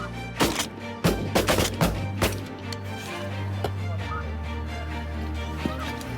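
A shotgun fires twice in quick succession during a spring snow goose hunt in Québec, sharp close reports followed by a few more thumps and shots, with a steady low hum from the blind underneath.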